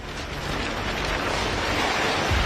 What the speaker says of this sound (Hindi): तेज हवाओं के झटकों से विमान बुरी तरह डगमगाने लगा।